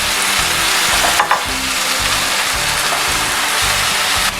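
Fried chicken being stirred into a soy-sauce and aromatics mixture in a hot pan, sizzling steadily and loudly with intermittent scraping and stirring noises, no speech.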